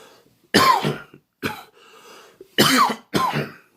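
A person coughs several times in separate harsh bursts, close and fairly loud, with brief quiet pauses and a throat-clearing sound between.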